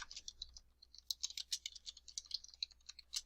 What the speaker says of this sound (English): In the title placeholder, I'm going to type in Citywide Business Alliance.